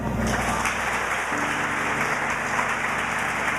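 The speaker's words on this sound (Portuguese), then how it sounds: "Você pode aplaudir o Senhor." A church congregation applauds during a sermon, a steady dense wash of clapping over a low organ or keyboard chord that shifts partway through, with no talk on top.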